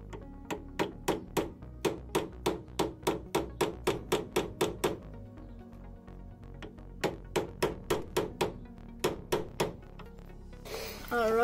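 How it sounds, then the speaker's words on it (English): A hammer strikes a screwdriver to bend down the tie rod retaining clip on an E30 BMW, a run of sharp metallic taps in quick steady rhythm, a pause, then another burst of blows, close up. "you can take your screwdriver and your hammer and you're going to bend down this retaining clip"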